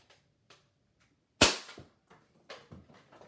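A toy gun fires once at a donut-shaped target held up indoors, a sharp loud snap followed by a short rattle, with a few faint taps and small knocks around it.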